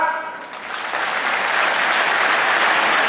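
A university auditorium audience claps during a talk by a police official, the applause swelling after the first half second into a dense, sustained roar of many hands.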